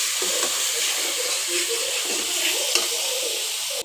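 Bottle gourd frying in a pan alongside fish gives a loud continuous sizzle with faint stirring clatter, then stops suddenly at the end.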